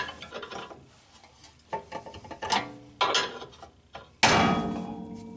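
A 24mm wrench tightening a press tool onto a Honda Accord lower ball joint, giving a series of close metallic clanks and ratcheting scrapes in uneven bursts, ending with one louder ringing strike.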